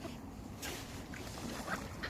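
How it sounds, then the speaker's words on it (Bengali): Ducks being fed at a small lake give a few faint, brief quacks against a low outdoor background hum, heard from some distance. "বেচারা হাঁসগুলো পেরে উঠছে না এদের সাথে।"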